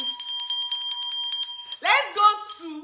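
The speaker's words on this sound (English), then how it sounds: "Let me ring the bell." A small hand bell rings repeatedly in quick, bright strikes with a sustained metallic tone for almost two seconds, close and clear, followed by a person starting to speak.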